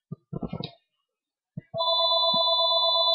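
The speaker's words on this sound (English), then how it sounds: "Phone was ringing." A phone rings with a steady, loud electronic tone that starts after some brief talk and a couple of soft knocks, then continues without a break to the end.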